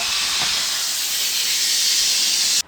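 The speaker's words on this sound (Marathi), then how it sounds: "तुपाच्या फोडणीमध्ये आमटी" A ghee tempering for amti sizzles in a pan for fasting-day cooking, a loud, steady, close hiss that holds evenly and then cuts off abruptly at the end.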